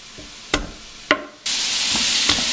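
Onions and garlic hitting a hot pan, with two sharp knocks followed by a sudden, steady, loud sizzle that stays close and continuous, and no voices.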